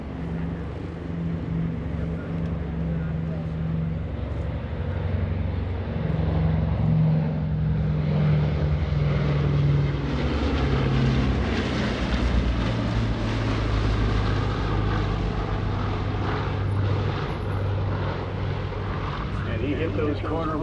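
A B-29 Superfortress propeller bomber flies a low photo pass at a World War II weekend airshow, its deep multi-engine drone swelling and holding as it sweeps by, with broadband roar rising through the middle.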